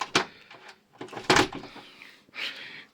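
A door bangs shut with a sharp knock, followed by more clattering thuds and a brief scraping hiss.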